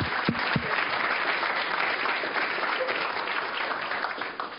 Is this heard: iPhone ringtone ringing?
no